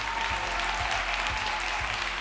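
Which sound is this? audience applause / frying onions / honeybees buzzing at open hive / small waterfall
audience applause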